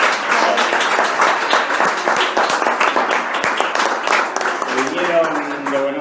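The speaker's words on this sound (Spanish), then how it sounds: "primero un aplauso, que se vinieron de Buenos Aires." An audience claps steadily for guests who travelled from Buenos Aires, dense applause filling the room for about six seconds, with a voice beginning to speak under it near the end.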